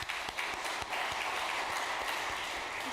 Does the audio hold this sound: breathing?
no